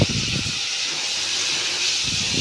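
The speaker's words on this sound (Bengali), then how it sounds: "ছোলাটাকে আমি লবণ, হলুদ, তারপর পেঁয়াজ কুচি, কাঁচা মরিচ দিয়েই ভেজে নিব।" Chickpeas frying with salt, turmeric, chopped onion and green chilli give off a loud, steady hiss that stays even and close throughout.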